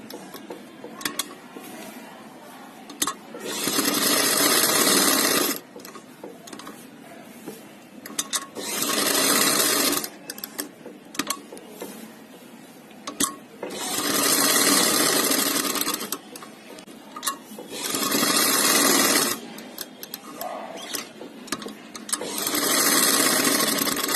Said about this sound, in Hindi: और जिगजैग वाली के साथ हम जिगजैग वाली सिलाई लगाएंगे।